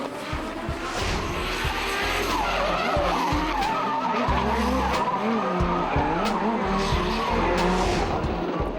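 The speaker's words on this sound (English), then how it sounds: "This threw a huge advantage to Chad McKenzie in the White Trick Tyres R32 Skyline, putting on another close chase." Nissan R32 Skyline drift cars in a competitive chase at a D1NZ drifting round in Tauranga, tires squealing and skidding continuously over loud, revving engines, sustained and close.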